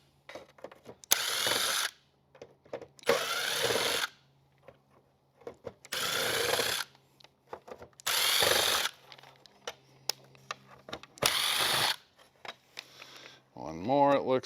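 Cordless power drill backing screws out of a Mercury XR7 dash cluster in a cramped spot, several short loud whirring bursts separated by quiet handling clicks and brief talk.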